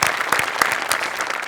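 An audience at a Marathi comedy show claps for a performer, steady, dense applause throughout at close range with no speech over it.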